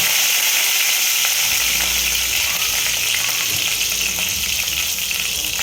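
Curry leaves hit hot oil with cumin seeds and asafoetida, releasing a loud, continuous, crackling sizzle that stays dense and close throughout with no voices.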